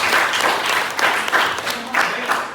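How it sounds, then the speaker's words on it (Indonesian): A class claps together after finishing an assignment, a dense, continuous patter of many hands at moderate volume, with faint voices mixed in underneath. "silakan tepuk tangan untuk kalian semuanya"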